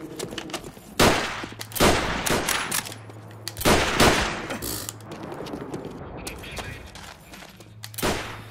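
Sniper gunfire in Call of Duty: World at War during a 1v1 quick-scope match, several loud sharp shots spaced a second or two apart over mechanical rattling and game noise.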